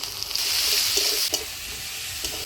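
Ground spice paste of coriander, cumin, ginger, chilli, turmeric and salt fries in hot oil for a Bengali rita fish curry, giving a loud, close, hissing sizzle with a few sharp spatula scrapes.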